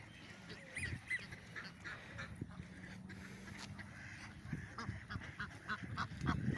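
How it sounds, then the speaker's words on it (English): Swans or geese honk faintly at a distance outdoors, with scattered calls rising and falling over a low ambient background. "these birds sound like the goose"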